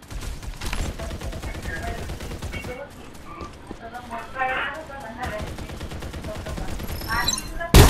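Rapid automatic gunfire from the Farlight 84 video game, loud, close bursts of crackling shots that run almost continuously, with game voice callouts and effects mixed in.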